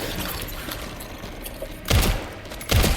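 Two loud gunshots in the survival-horror video game Resident Evil Requiem crack out about a second apart, each leaving a short rumbling tail over low game ambience.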